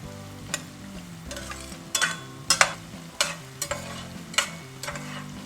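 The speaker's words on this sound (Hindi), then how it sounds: "ये लहसुन एंड अदरक को हमें तब तक पकाना है जब तक कि उसका कच्चापन निकल जाए" Soft, steady sizzling of garlic and ginger frying in a pan, with occasional clicks and scrapes of a utensil stirring, no voices.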